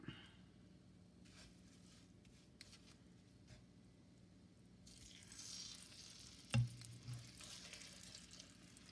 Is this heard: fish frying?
yes